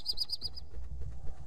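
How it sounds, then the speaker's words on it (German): A game bird in Don't Starve Together chirps five quick, bright tweets in an even rhythm, then goes quiet over a low rumbling background with no talk. "Der Vogel entkommt jetzt."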